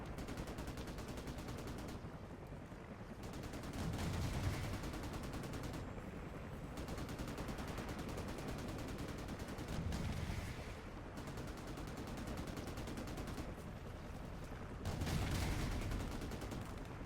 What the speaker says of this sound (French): Parce que là, il tire, mais vas-y, il tue personne.